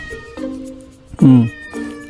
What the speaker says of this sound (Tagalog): Kita mo kahit yung pusa, uma-agree.